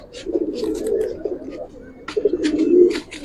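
Giribaz pigeons cooing in a soft, rolling burst, pausing briefly and then cooing again, close by with faint chirps in the background.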